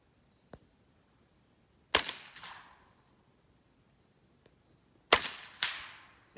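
A suppressed Smith & Wesson M&P 15-22 rifle fires at a 100-yard target outdoors, two sharp muffled cracks a few seconds apart, each followed by a faint distant echo and light clicks of the action.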